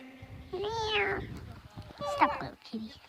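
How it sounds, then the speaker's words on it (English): Cat meowing at a camping site, two drawn-out rising-and-falling meows a second apart followed by a short third cry, fairly close, with people talking around them. "That's my cat."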